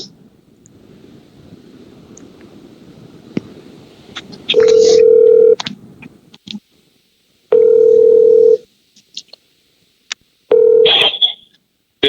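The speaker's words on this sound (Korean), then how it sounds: "잠깐만 내가 다른 핸드폰으로 전화할 테니까 너도 들어 그냥" Telephone call tones: a faint background hum, then three loud, steady ringback tones about a second long, spaced a few seconds apart with gaps of quiet between them, and brief clicks and bursts near the end.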